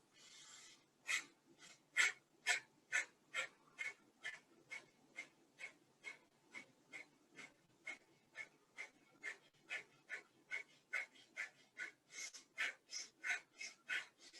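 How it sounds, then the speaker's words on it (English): Pranayama breath of fire during chair yoga: a long run of rapid, sharp nasal exhales, about two per second, evenly spaced and close, with faint inhales between them and no talk. "I'm going to demonstrate what we do when we do this pranayama breath of fire"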